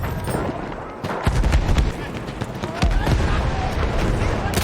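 Battlefield 1 combat, with rapid machine gun bursts and scattered heavy gunshots cracking over a dense, booming battlefield din, while game voices shout now and then.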